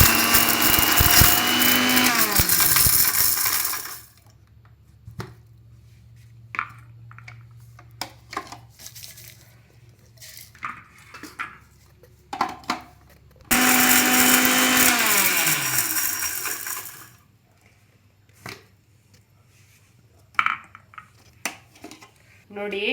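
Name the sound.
mixer grinder grinding red chillies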